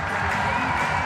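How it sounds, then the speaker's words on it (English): Spectators cheering at a women's lead climbing final at the European Championships in Munich, a dense, sustained roar of crowd noise filling the whole short moment. "The crowd knows exactly when to cheer and hype her up."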